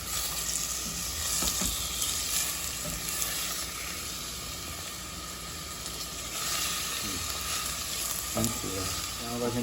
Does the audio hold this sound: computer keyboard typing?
no